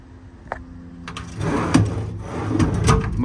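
Drawers in the storage compartment of a 2016 Kenworth T370 service truck slide open and shut several times, with soft rolling runs and a few light clunks close by, no talking.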